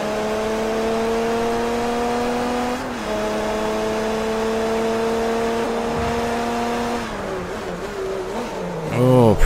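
A Le Mans prototype race car engine in Forza Motorsport 3 holds a high, steady whine, then shifts gears and lifts for braking. It rises again in sharp revving sweeps at the end, loud and close.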